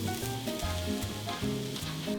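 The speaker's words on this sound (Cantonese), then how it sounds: "開中火加熱後，落茄子煎到略為軟身" Eggplant pieces fry in oil in a pan over medium heat, giving a steady close sizzle. Layered tonal music-like bands run across the whole clip, with no speech.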